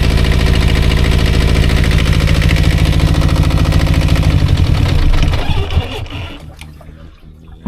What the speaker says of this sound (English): I'm going to let it run for a bit, increase the revs